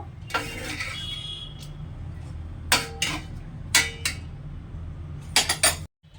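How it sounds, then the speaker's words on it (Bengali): A metal spoon scrapes and clinks against a pot while garam masala tempering is stirred into cauliflower khichuri, giving scattered sharp clinks in small bursts over a steady low kitchen hum. "গরম মশলা ফোড়নটা পুরোটা খিচুড়ির সাথে আবার মিশিয়ে দিচ্ছি"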